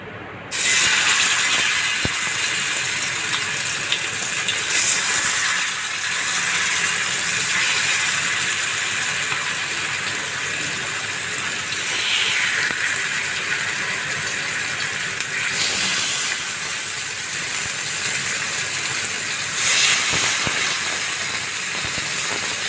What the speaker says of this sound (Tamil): இப்போ ஊற வச்சுருந்துக்கிற மீனை இதில் நம்ம பொரிச்சு எடுத்துக்கலாம்.